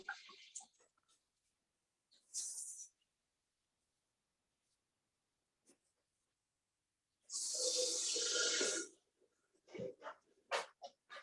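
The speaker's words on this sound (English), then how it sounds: "I'm just going to put the kettle on." Tap water gushes into a kettle for about two seconds in a home kitchen, a loud hissing rush between faint clicks and handling noises, with a voice briefly present.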